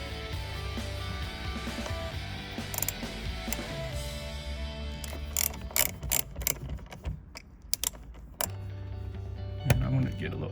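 A ratchet works a T30 bolt loose on an Audi R8 steering wheel, giving a series of crisp, close clicks in uneven bursts midway through, with a low mechanical hum and someone speaking around them.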